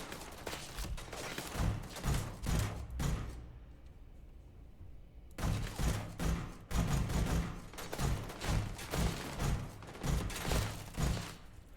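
Gunfire in the video game Starfield comes in rapid bursts of thudding shots, fairly quiet and steady, with a brief lull in the middle before the volleys resume without any talk.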